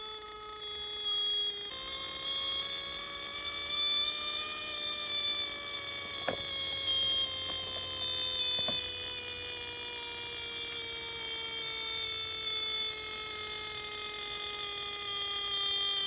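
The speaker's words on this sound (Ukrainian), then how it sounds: "в ванні ми підімкнули форсунку і мучаємо її режимами плаваючої частоти" A steady, high-pitched electronic whine with sliding tones that drift slowly downward from a Honda Super Cub fuel injector pulsed at varying frequency in a cleaning bath, with a couple of faint clicks partway through.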